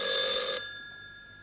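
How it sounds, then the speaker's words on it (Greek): An electronic telephone bell rings in one bright, tonal burst that cuts off abruptly after about half a second, leaving a faint fading hum behind. "να κάνω άμα χτυπάει κουδούνι. Α, ναι, θα σηκώνω το τηλέφωνο."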